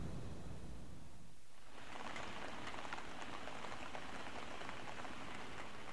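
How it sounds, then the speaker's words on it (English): Rain falling on a rainy day in Miyazaki, southern Japan, a steady wash of drops that grows louder after a brief lull, continuous and fairly close with no voices. "It's a rainy day in Miyazaki, South Japan."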